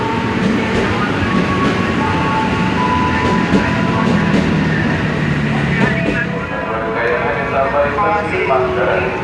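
Commuter train rolling into Klender station, a steady loud rumble and rail noise filling the whole stretch, with platform announcements and voices layered over it.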